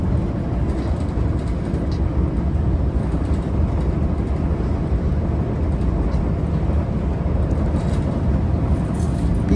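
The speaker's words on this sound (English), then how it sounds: "That's a northbound local train making all stops to 4th and King Street Station in San Francisco." A northbound Caltrain local rumbles past in a steady, loud low roar with a continuous clatter of wheels on rails, close by and unbroken throughout.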